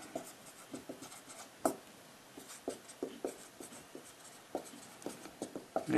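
Pen or chalk writing a differential equation by hand, a string of faint scratchy strokes and taps in irregular short bursts, close and quiet with no talk over it.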